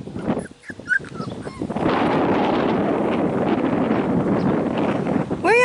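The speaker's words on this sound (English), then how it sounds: "Come on, puppies." Young male puppies whimper and yip close by in the open, with brief high cries early on, then steady wind rumble buffeting the microphone over the rest.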